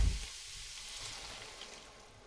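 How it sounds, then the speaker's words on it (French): Beef broth goes into a pan of bolognese, giving a brief burst of sizzling followed by a steady, moderate frying hiss with no talking. "je vais pouvoir rajouter mon bouillon de bœuf"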